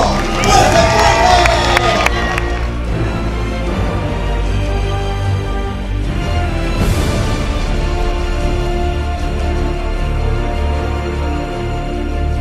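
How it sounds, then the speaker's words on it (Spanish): Children at a school science fair erupt in loud cheering and shouting, a dense crowd roar with piercing whoops in the first seconds, then sustained noisy clapping and chatter that swells again midway and carries on to the end. "vamos a darle un fuerte aplauso, pero con bulla y todo"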